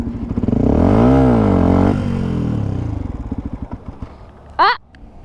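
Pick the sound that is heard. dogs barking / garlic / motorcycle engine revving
motorcycle engine revving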